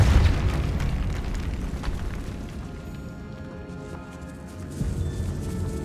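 Bombarda spell in a video game sets off a deep, booming explosion with a heavy low rumble that rolls on and slowly fades, with no talk over it.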